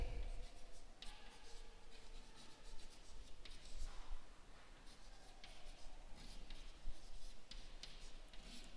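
A pen scratching across paper during a live Bengali class for fifth graders, a continuous soft scribbling with small pauses and strokes, close and quiet with faint room noise, no one speaking.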